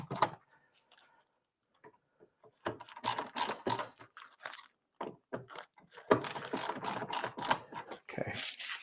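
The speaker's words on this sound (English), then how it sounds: "now we're going to retighten the screws, but only gently" Screws are retightened on a Pac-Man arcade cabinet with clicky ratcheting turns in bursts, close by, with pauses between and no talking.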